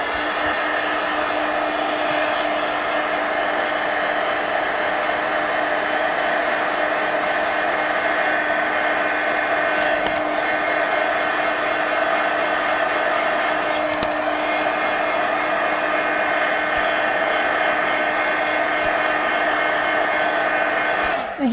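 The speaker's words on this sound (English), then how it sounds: "The heat gun works pretty quick" Heat gun blowing hot air to dry watercolor paint on an adult coloring book page, a loud, steady whooshing roar that holds unchanged throughout.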